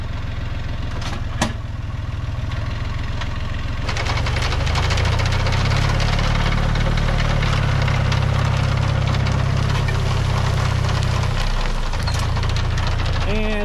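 An onion harvester runs in a farm field, its engine rumbling loud and steady with a deep drone that thickens partway through, plus scattered clatter and knocks from the machine.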